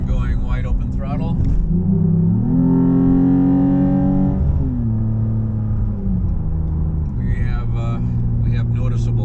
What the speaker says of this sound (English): And going wide open throttle.